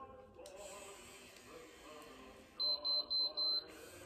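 A hair styling tool sounds a burst of four short, bright beeps in quick succession over faint background hiss and soft talk at a home styling session.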